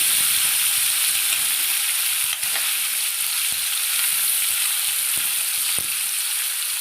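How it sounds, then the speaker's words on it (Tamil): Paneer frying in a pan gives a loud, steady sizzle that fills the whole stretch, with a few faint clicks of stirring or utensil contact and no talking. "நம்ம நல்லா பன்னீர் நல்லா ஃப்ரை ஆகட்டும்"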